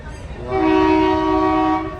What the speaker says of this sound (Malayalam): ഇപ്പോൾ വേറെ ട്രെയിൻ അവിടെ വരുന്നുണ്ട്